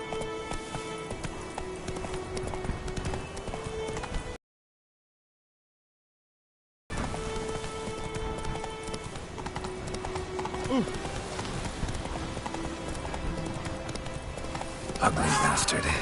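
Roach, a horse in The Witcher 3, trotting with steady clip-clop hoofbeats under game music and ambience, with a brief silent gap partway through.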